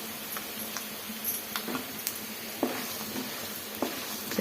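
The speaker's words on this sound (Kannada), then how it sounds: "ಚೆನ್ನಾಗಿ ಸ್ವಲ್ಪ ಬ್ರೌನ್ ಕಲರ್ ಬರೋವರೆಗೂ ನಾವು ಫ್ರೈ ಮಾಡ್ಕೊಳ್ಳೋಣ." Cashews frying in oil and being stirred in a pan with urad dal for coconut rice, giving a soft steady sizzle broken by scattered light scraping and clicking stirs, close and fairly quiet with no talk.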